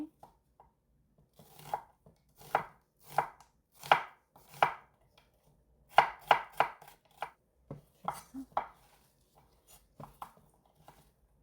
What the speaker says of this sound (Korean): 양파는 4분의 1개만 가장자리 잘라내고 얇게